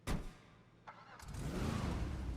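A Bravado Greenwood muscle car in GTA starts up: a short crank and catch, a brief pause, then the engine fires and settles into a loud, deep, rumbling idle that rises as it revs.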